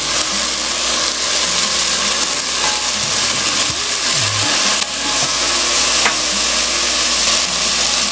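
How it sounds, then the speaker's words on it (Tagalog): Kabsa sizzles loudly and steadily in a pot as ginger paste goes in, with a dense frying hiss, scattered stirring scrapes and clinks running throughout. "So, ilagay ko na itong ginger paste."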